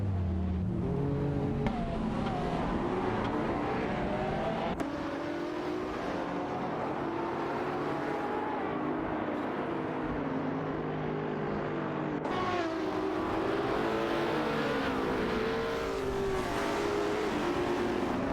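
Racing-game cars, a Lamborghini Aventador SV duelling a Ferrari 599 GTO, scream continuously at high revs, engine pitch rising and falling through gear changes, loud and unbroken with no voices.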